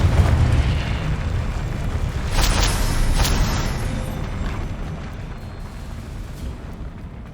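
Confringo blasting spell exploding in the Hogwarts Legacy game, a heavy, rumbling blast that booms loudly at first and then rolls away with debris crackling and fading over several seconds.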